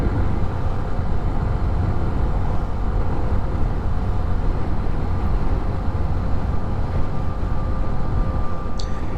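A Hero Xtreme 125R motorcycle cruising in 5th gear at around 65 km/h, a steady, loud engine drone mixed with heavy wind buffeting that holds constant throughout, with no voices.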